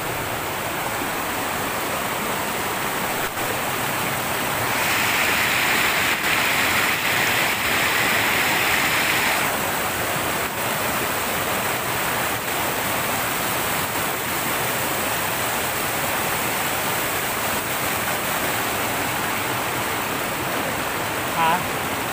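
A mountain waterfall rushes in a loud, continuous broadband roar that swells slightly for a few seconds before settling back to a steady wash.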